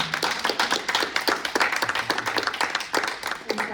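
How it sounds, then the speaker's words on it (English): Audience applause after a fireside chat, dense and steady clapping from a small crowd close by, lasting several seconds without any speech. "give Chelsea another round of applause"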